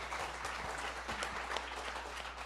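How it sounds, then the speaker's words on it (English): Audience applause at a CPAC Minnesota political event, a steady wash of clapping from a crowd, fairly faint and distant, continuing evenly without pause. "That is worth applause."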